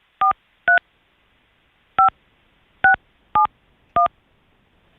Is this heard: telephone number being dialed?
yes